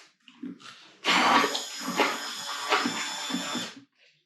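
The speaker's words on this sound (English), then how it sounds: "it's kind of nice to just whip it up real quick with the blender" A countertop blender whips up batter for fried pork dippers, a loud steady whir of about two and a half seconds with slight surges, starting and stopping abruptly, with faint clatter before and after.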